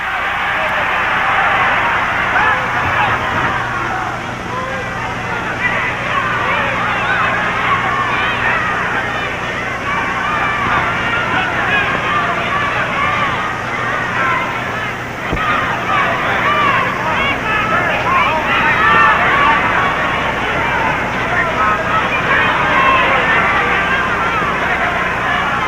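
Crowd at ringside at a 1950 NWA wrestling match at the Amphitheatre in Chicago, Gorgeous George vs Frankie Talaber: a steady, loud hubbub of many voices from a large arena audience, with no let-up, under a commentator talking.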